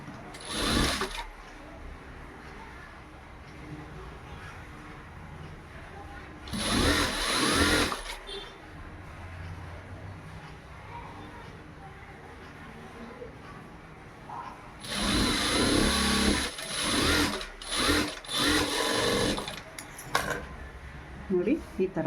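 A sewing machine stitches thread piping on double-folded fabric in short bursts, a fast mechanical whirr that starts and stops several times with quieter gaps between runs.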